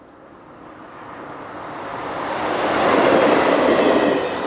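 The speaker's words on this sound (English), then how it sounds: "one of the regular TGV services heads for Dunkirk" A TGV high-speed service bound for Dunkirk under a leaden sky, heard as a steady rushing roar that swells from moderate to loud as it approaches and peaks near the end, with no voices.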